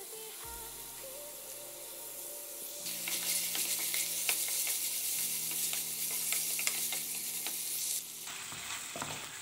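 Chicken pieces fry in a single pot for butter chicken, a close, steady sizzle and crackle that grows louder as more chicken goes in, with occasional stirring.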